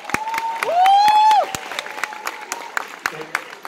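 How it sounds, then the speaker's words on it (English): An audience at a middle school eighth-grade graduation breaks into lively, close clapping, with a loud cheering whoop early on and scattered sharp claps continuing after it. "So give yourself a round of applause."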